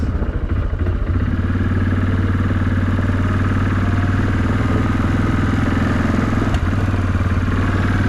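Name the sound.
Kodiak ATV engine struggling under throttle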